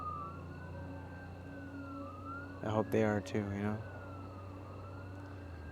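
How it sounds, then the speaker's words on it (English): Faint wailing sirens rise and fall in the distance, briefly interrupted by a person speaking nearby before the sirens continue. "Every time I hear sirens, I'm very grateful to be where I'm at right now."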